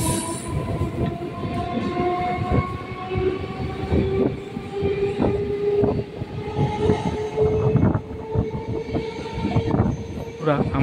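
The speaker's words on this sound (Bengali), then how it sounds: "আমাদের ট্রেন এখন নিউ গড়িয়া স্টেশন ছেড়ে বেরিয়ে যাচ্ছে" A Kolkata suburban local train on the Sealdah–Sonarpur line pulls out of New Garia station, with loud continuous rumble, rhythmic clatter of wheels over rail joints and intermittent squealing wheels heard from inside the coach.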